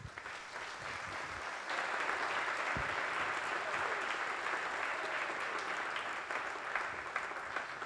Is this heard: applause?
yes